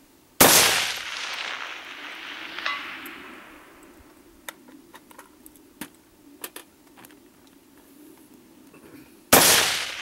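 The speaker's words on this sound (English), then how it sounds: "I'm gonna shoot the rectangle." A single sharp gunshot fired at a rectangular target on a shooting range cracks loud and close, followed by quiet with faint distant pops and clinks, then a second loud shot at the end.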